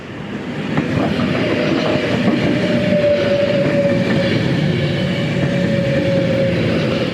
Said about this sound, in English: here's the Pendolino, all 11 carriages of it